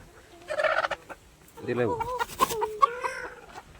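Domestic chickens cluck and call close by in a yard, with several short bursts of calls. A person speaks briefly among them.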